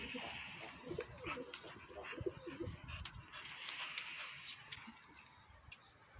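A young Malgafa bozdumanlı pigeon coos in a loft with soft, repeated low calls. Faint chirps and rustling surround the cooing, and quiet voices sometimes speak in the background.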